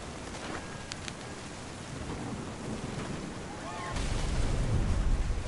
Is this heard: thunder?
yes